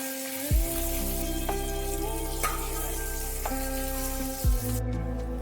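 Cauliflower pieces frying in oil in a kadai over a gas flame turned down low, a steady close sizzle with a few brief stirring clatters, no voices.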